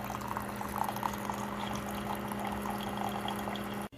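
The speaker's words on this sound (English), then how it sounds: "I can hear the pump is kicked on and we're running clean water" A Keurig K-Duo 12-cup coffee maker's pump runs clean water through the brewer, a steady mechanical hum with a watery rush throughout, cut off abruptly just before the end.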